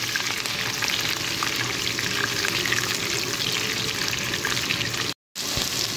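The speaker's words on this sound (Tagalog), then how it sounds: "Ayan, malapit na siya mag-toast. Nilagay ko na rin ang onions." Onions sizzle steadily in hot oil in a pot along with toasting garlic for a Filipino chicken soup, a loud, continuous close frying hiss with occasional stirring and a brief dropout near the end.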